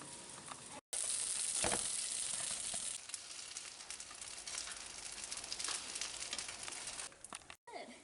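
Food fries in canola oil with soy sauce in a pan at a campout, giving a steady crackling sizzle with scattered sharp pops of splatter, fairly quiet and continuous.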